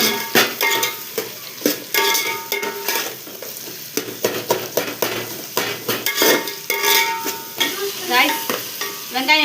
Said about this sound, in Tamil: போட்டு நல்லா வெங்காயம் அட்லீஸ்ட் ஒரு 10 minutes ஆகுது நல்லா மெரூன் கலராக வர்ற மாதிரி நல்லா வதங்கணும்.